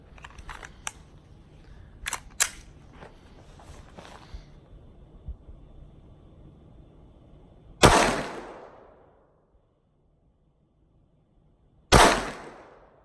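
A Glock 44 pistol chambered in .22LR fires two sharp, loud shots about four seconds apart, each with a short ringing decay, after several quieter mechanical clicks and handling noises.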